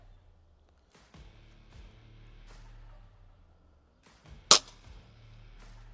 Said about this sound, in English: Oh, perfect shot, perfect.